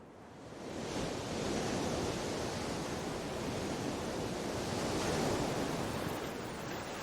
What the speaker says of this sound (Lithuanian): Krantus skalauja potvyniai.